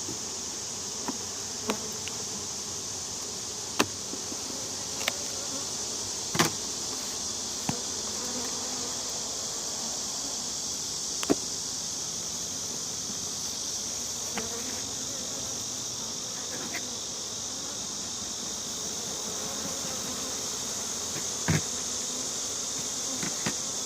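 Many bees buzz in a continuous, busy drone, with scattered clicks and taps of frames being handled close by.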